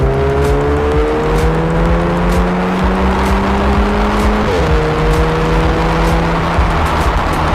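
A Volkswagen Golf GTI MK6/MK7 hot hatch drives past loudly, its engine note climbing through the gears with stepped rising tones and a brief shift break, heard alone without talk.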